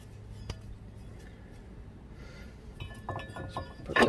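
A metal brake caliper bracket from a Mk5 Jetta front brake job is handled, giving faint, sparse clinks and small rattles, with a slightly louder cluster of knocks near the end.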